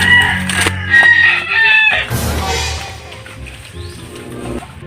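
A red rooster crows loudly and close by, with sharp clucks before the drawn-out call and a few softer clucks trailing after it.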